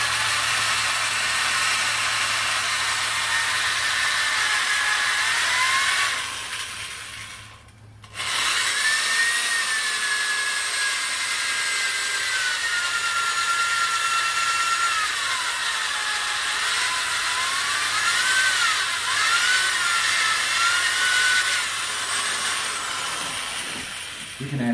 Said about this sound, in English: I'm going to go ahead and drill the mouthpiece area out